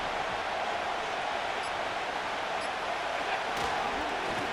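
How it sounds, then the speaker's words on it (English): A stadium crowd roars in the Madden NFL 25 football video game, a dense, constant wash of cheering noise heard loud throughout. "This crowd into it now as we get to 3rd down."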